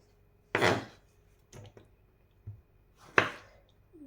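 A knife chops tomatoes for boiling into sauce: four separate, sharp cutting thuds on a board, spaced irregularly with quiet gaps, close and fairly loud.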